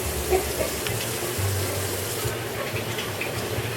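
Running tap water pours steadily into a kitchen sink as hands are washed before cooking banana berry pancakes, a soft continuous splashing hiss with faint handling noises and no talk.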